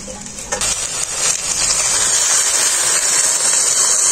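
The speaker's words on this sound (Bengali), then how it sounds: "এরপর আমি অল্প একটু জল দিয়ে দেবো এর মধ্যে।" Water is poured into a hot kadai (wok) of spinach set to boil, and a loud close hiss of steam and sizzle surges and then holds as a broad, steady rush.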